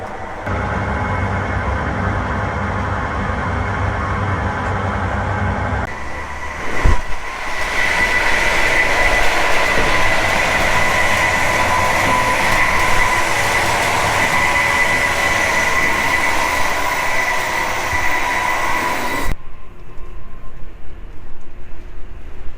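A Swedish overnight train on a 13-hour route runs along the rails with a loud, steady, close rumble and rolling wheel noise. The tone shifts briefly partway through, and the sound continues unbroken almost to the end.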